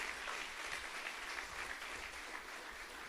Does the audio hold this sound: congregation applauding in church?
yes